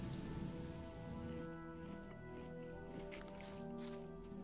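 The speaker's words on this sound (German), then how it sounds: "Jetzt fängt es gleich wieder an zu nieseln oder zu regen" Rain in the video game Gothic 1 patters softly and steadily across surfaces, a faint continuous hiss of drops layered over a low ambient hum, with no voices.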